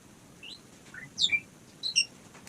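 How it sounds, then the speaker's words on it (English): Merlin, a pet bird, gives a few short high chirps, quiet and spaced out against a faint hushed room background. "That squeaky noise is actually Merlin chirping."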